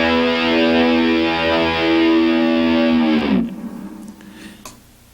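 A distorted electric guitar sustains a high note that rings steadily with tremolo-arm shimmer before dropping away abruptly, leaving a faint decaying tail and near silence.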